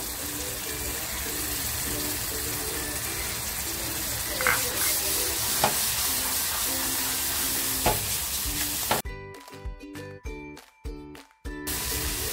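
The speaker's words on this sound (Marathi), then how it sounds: "मसाले टाकलेत आणि ते करपू नये म्हणून लगेचच टोमॅटोची प्युरी केली होती ती टाकते" Tomato puree is poured onto spices frying in hot oil for a coriander kofta curry, giving a steady loud sizzle, then broken stirring and scraping noises toward the end.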